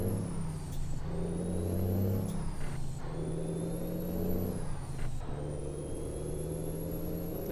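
A truck engine in American Truck Simulator being put into gear, a steady loud diesel drone with a hiss like an air brake near the start and a few short mechanical clunks and pitch shifts as it engages, with no talking.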